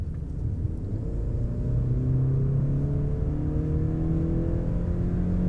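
A Mercedes-Benz E-Class W214 plug-in hybrid's engine accelerates in battery-hold mode with a low, steady drone whose pitch climbs gradually over several seconds, heard from inside the car with no talking.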